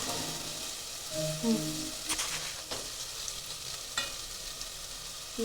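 Spice masala sizzles and fries in a hot pan as it is added during home cooking, a soft continuous crackle with a few brief stirring or scraping sounds, fairly quiet and close.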